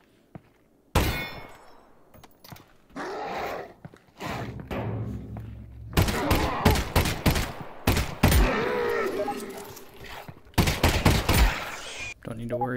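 Pistol gunfire in Half-Life: Alyx, with sharp shots and metallic clangs in irregular bursts over a busy in-game background, with some talk.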